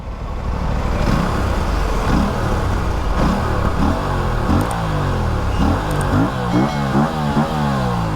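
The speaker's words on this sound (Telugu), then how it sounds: "ఎగ్జాస్ట్ నోట్ ఒకసారి చూద్దాము" The exhaust of an Aprilia RS457 motorcycle is revved repeatedly up close, giving a series of rising blips that climb and fall back in quick succession. The loud engine note continues without any talking.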